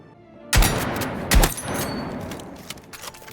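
Shotgun blasts in the video game Battlefield 6: two loud, sharp booms about a second apart, followed by a lingering rumble and scattered fainter pops.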